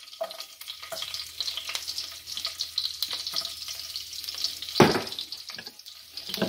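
Sliced garlic frying in hot oil in a pan, a steady close sizzle and crackle throughout with a brief louder clatter near the end.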